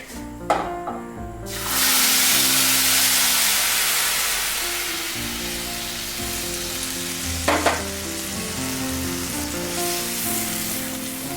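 Milk poured into vermicelli roasted golden brown in homemade ghee hits the hot pan with a sudden loud sizzle that settles into a steady frying hiss, broken by a couple of stirring clatters.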